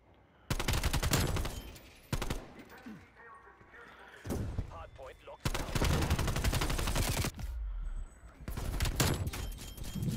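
Loud, rapid bursts of automatic gunfire from Call of Duty: Black Ops Cold War multiplayer, coming in several dense volleys with short gaps between them, alongside voices of players talking.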